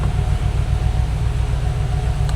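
A car engine idles steadily and close by, a low, even rumble that holds without a break, with a brief higher knock near the end.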